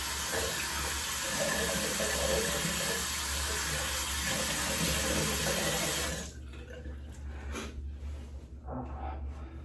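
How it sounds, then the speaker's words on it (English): Running water pours steadily from a bathroom sink tap while someone rinses off during a shave, a loud continuous rush that cuts off abruptly, leaving soft drips and splashes. "I'm gonna go in and rinse off and go in for the final pass."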